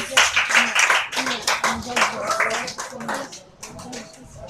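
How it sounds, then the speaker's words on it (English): An audience at a debate event claps for a social studies instructor, steady close clapping running several seconds under intermittent speech. "Let's give him a round of applause, please"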